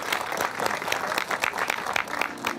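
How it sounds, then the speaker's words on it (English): Audience applause at a guesthouse gathering, a moderate burst of individual claps clearly audible, steady and fairly close, without talk over it. "So a big round of applause for her now, Mary."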